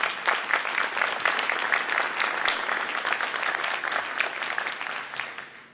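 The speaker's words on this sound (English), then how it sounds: "Let's give them a round of applause." An audience gives a round of applause at a live community event, steady dense clapping from a crowd lasting several seconds, fairly close and continuous, gradually easing off.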